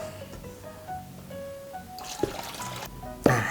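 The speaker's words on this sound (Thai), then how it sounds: "ก็ทำการซาวน้ำออกครับ เทน้ำออกได้เลยนะครับ" Rinse water is poured off sliced potatoes after a first wash, giving a couple of short splashing bursts over a faint, steady background.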